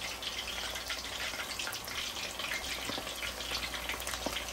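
Chicken drumsticks frying in oil make a continuous, fairly quiet bubbling sizzle with small crackles and pops scattered throughout, steady from start to finish with no voices.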